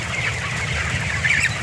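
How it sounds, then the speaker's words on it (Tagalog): Broiler chickens about 45 days old cluck and chatter as a dense flock, a continuous close murmur of overlapping bird calls with a few louder squawks. "Balik na po tayo sa aming mga alagang manok."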